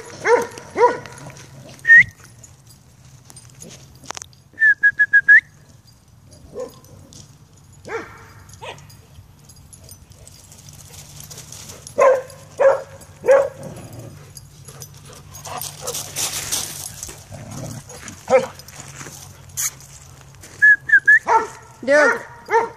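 Puppies yip in short bursts of high barks and thin whimpers, scattered across a quiet room with a low hum and occasional rustling.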